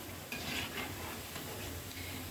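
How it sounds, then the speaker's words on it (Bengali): Chicken chops fry in hot oil in a home kitchen, a steady close sizzle and bubbling with a brief stirring scrape near the start, no voices. "এখানে চিকেন চপটা ভেজে নিব"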